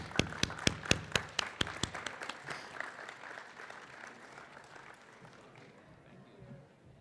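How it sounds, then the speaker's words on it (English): An audience at a campus event on Oregon State University grounds breaks into applause, opening with a few loud, sharp nearby claps that quickly thin into scattered, fading clapping from the crowd. "If you will please give a round of applause for Anderson as he approaches the stage."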